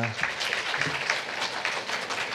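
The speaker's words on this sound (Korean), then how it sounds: "괜찮으시면 잠깐 일어서 주시면 우리 박수로 환영하도록 하겠습니다" Church congregation applauding to welcome a visitor during a service, steady, moderately loud clapping from many hands throughout, with some voices mixed in underneath.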